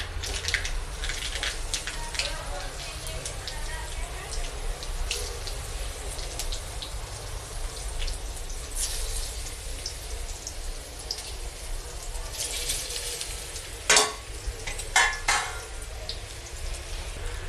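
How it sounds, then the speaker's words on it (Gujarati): Colocasia leaf rolls (patra) frying in hot oil, a steady crackling sizzle throughout with a few louder pops near the end, close and moderately loud, with no talking. "હવે બધા પાત્રા તેલમાં નાખી દેશું"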